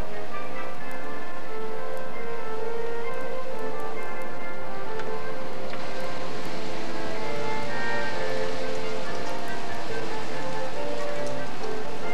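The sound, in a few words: hail falling outside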